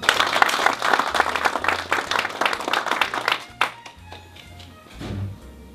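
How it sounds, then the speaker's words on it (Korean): An audience at an endorsement event in Korea breaks into dense applause for about three and a half seconds, then it thins to a few scattered claps and a brief murmur. "다시 한번 큰 박수 부탁드립니다."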